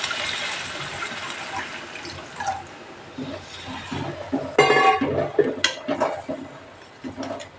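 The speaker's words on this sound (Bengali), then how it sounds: "জল দিয়ে দিচ্ছি।" Water is poured into a kofta and potol curry in a pan, a splashing gush that hisses against the hot liquid and then settles into bubbling and clinking, close and moderately loud.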